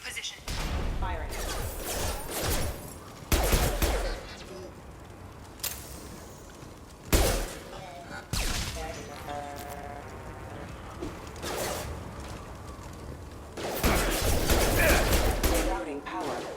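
Bursts of gunfire from security mechs in Mass Effect 2, loud and broadband, coming in several clusters over about sixteen seconds amid game noise and chatter.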